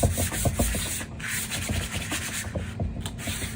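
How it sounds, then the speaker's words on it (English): Sandpaper lightly rubs across a slick, glossy book cover in quick back-and-forth strokes, a steady close-up scratchy rasp that continues throughout without any talk. "So I'm just going to lightly sand it."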